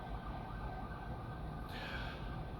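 A police car's siren sounds faint and distant beneath a steady background hum, with a brief rise in brightness partway through as it passes.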